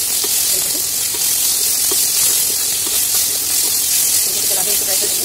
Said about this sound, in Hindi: आधा चम्मच की करी में नमक है उसको डाल के चार पाँच मिनट तक फ्राई करेंगे मीडियम फ्लेम पे।